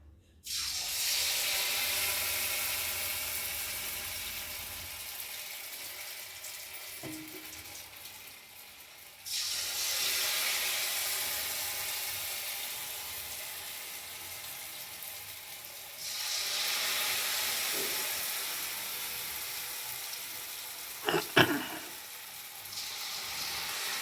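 Batter-dipped pieces sizzling in oil heated on a stove, a steady broad hiss that swells each time fresh pieces drop in, with faint clinks of utensils and no talk.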